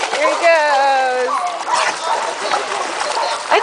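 A dog named Biba splashing through water at a dog waterpark day, a busy continuous slosh and spray. Near the start a person talks briefly over it, and other sounds continue in the background.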